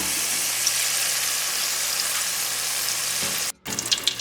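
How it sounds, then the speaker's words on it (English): Pork wontons deep-frying in a pot of hot oil give a steady, dense hiss and crackle that runs continuously, then cuts out abruptly near the end before faint bubbling resumes. "This is how many I've fried so far."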